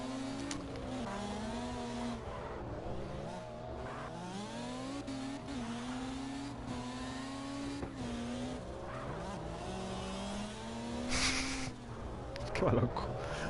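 A drift car engine in the CarX Drift Racing video game, a Lynx that sounds broken, revs up and down repeatedly, its pitch sweeping as it drifts, with a brief tire squeal near the end.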